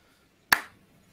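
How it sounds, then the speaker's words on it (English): A single sharp hand clap during a live-stream audio-video sync check, one crisp close snap with a short decaying tail in otherwise near silence. "Could you do a hand clap for me just to see?"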